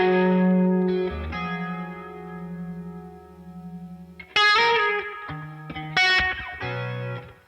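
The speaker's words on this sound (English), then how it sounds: "Just like some really cool chorus tones happening here." Shimmering, chorus-laden guitar tones ring out in sustained chords, swelling with a wavering, doubled quality and lingering echoes between changes.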